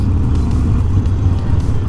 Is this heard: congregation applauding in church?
no